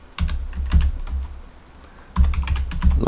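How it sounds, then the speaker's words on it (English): Keyboard typing in two bursts of quick, uneven clicks separated by a short pause, close and fairly crisp. "let's start typing our command."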